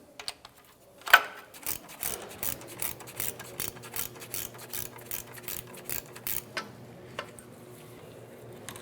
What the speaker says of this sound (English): we'll switch over to the gear wrench and tighten this down.